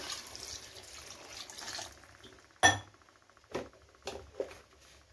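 Water is poured into a pan of Bombay sagu curry, a soft splashing wash for about two seconds, followed by a few sharp metallic clinks of a utensil against the pan in near quiet.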